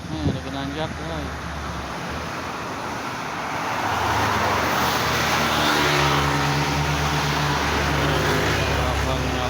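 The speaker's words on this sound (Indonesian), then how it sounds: "Lagi nih truk nih lagi nanjak guys." A tanker truck's engine labours up a long, steep hill on Tanjakan Cipeundeuy, a steady mid-pitched drone that builds louder and heavier after a few seconds amid road noise, with some voices talking faintly in the background.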